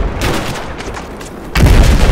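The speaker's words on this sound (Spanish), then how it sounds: "Madre mía, explosiones brutales." Rumbling blasts and gunfire build, then a loud, heavy explosion bursts in near the end and keeps roaring, in Battlefield 4 gameplay.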